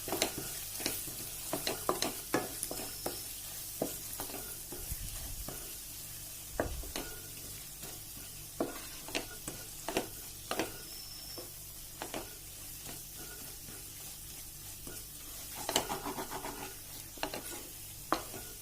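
Red chili powder, Kashmiri chili powder and turmeric fry in a pan, with a steady soft sizzle broken by repeated scraping stirs close by and no voices.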